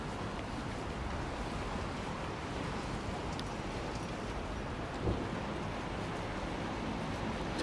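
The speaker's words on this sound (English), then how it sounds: "it is rainy and dreary here" Steady rain falls on a dreary day in England, a dense, continuous hiss of drops on surfaces that fills the whole stretch at an even level, with no voices.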